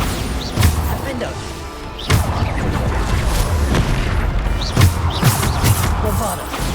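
Repeated Bombarda spell blasts from Hogwarts Legacy burst out in sharp booming thuds at intervals, one smashing a window, with someone talking over the action.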